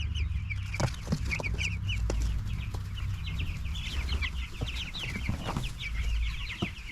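A flock of 23-day-old meat chickens, part of 100 raised on grass with a small shelter, keep up a busy, close chorus of clucks and peeping calls over a low outdoor rumble.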